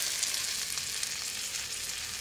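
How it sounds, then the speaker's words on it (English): Food sizzles in a small Teflon-coated pan, a close, steady hiss of frying with faint crackles and pops running evenly, no voices present. "She's sizzling away already."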